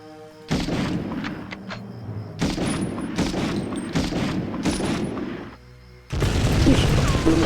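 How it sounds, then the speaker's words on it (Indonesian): Gunfire bursts in the war shooter Medal of Honor, several dense volleys of loud game shots with short pauses between them, heavy and continuous across the stretch. "Ngeri, ada yang nembak lagi nih."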